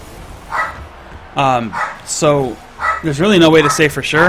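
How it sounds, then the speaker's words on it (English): Dogs bark in short bursts in the background while someone commentates on a Rocket League match, his voice running over them. "Apologize for the dogs."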